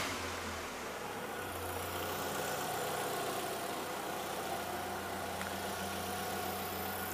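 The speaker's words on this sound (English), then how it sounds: "So let's start the engine." A car engine starts and runs at a steady idle during a MAP sensor test, a low continuous hum with a faint mechanical rattle, fairly close, with no talking.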